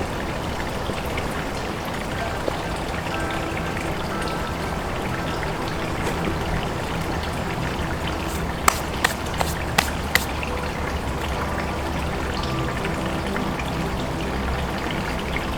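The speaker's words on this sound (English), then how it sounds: "I just want to just sit here and listen to the water" Water flows steadily in a forest in Ravenna Park, a continuous even rush with no talk, and a few faint clicks partway through.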